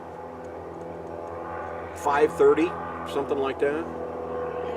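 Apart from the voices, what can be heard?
airplane taking off from nearby Truckee Tahoe airport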